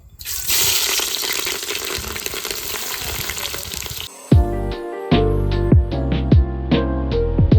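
Green chillies and finely chopped onions go into hot oil for a chicken curry, giving a loud, dense sizzle for about four seconds, then clinking and scraping of a spoon stirring in the pan with the frying continuing underneath.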